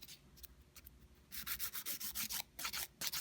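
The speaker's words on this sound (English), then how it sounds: "I'm just using light pressure on my file." Close, rhythmic strokes of a file shaping the edge of a sculpted gel nail, quiet scratchy rasps at first, then a steady run of rapid back-and-forth passes with light pressure.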